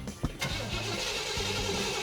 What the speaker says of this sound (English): Start it. It'll fire right up.